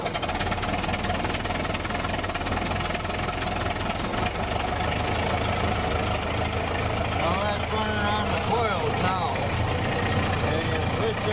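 Engine of a Ford Model T running on magneto, idling steadily with a continuous rumbling chug throughout, fairly close and even in loudness.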